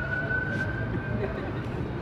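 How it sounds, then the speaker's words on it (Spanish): A police car siren sounds during a live clown comedy show, a fairly loud steady wail mixed with voices and background noise. "¡La patrulla, güey!"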